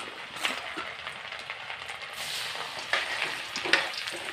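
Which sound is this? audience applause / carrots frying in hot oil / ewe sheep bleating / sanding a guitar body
carrots frying in hot oil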